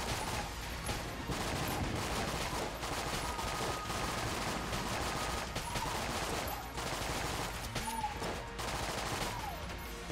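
Rapid gunfire fills the Enter the Gungeon action, dense bursts of shots repeating steadily and loudly for the whole stretch with brief gaps, no one speaking.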